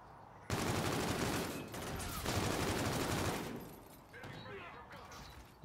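Heavy, sustained bursts of gunfire roar through a multiplayer match of the video game Call of Duty: Infinite Warfare. The shooting is loud and dense for several seconds, then drops back to quieter battle noise.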